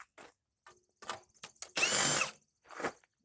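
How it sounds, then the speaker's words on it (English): A power drill zips screws out of an air conditioner being scrapped, in several short, close whirring bursts and one longer spin in the middle, with quiet gaps between them. "Pop a couple more screws out here."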